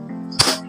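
A single short, weak pop from an airgun being adjusted for an air leak, a brief close burst rising over a steady low hum.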